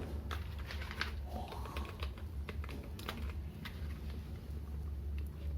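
Typing on a KiTech KB-011 wired computer keyboard, a steady stream of quick close-up key clicks with no talking over it.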